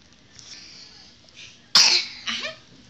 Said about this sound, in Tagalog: Yung ubo niya yan